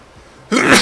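One short, sudden, forceful sneeze bursts out after a half-second of near quiet, loud and close.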